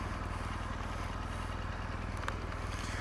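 A 2018 BMW R1200GS boxer motorcycle engine runs steadily at idle with a rapid, even pulsing thrum, close up and continuous, with no voices.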